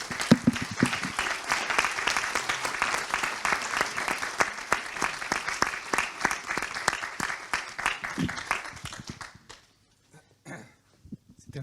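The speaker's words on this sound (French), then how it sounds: "répondre aux applaudissements de tous tes collègues" A conference audience at a cardiology heart-team plenary session applauds a colleague with dense, steady clapping for about nine seconds. The applause then stops abruptly into near silence, with a few faint sounds at the end.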